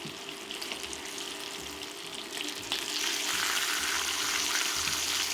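A blackened tilapia fillet sears in a hot pan over high heat, giving a continuous bright sizzle that swells louder partway through, close and steady with no voices.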